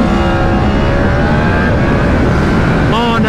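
A Yamaha R1 motorcycle engine accelerates hard in second gear, its loud, close, high-pitched howl rising steadily in pitch with wind rush throughout.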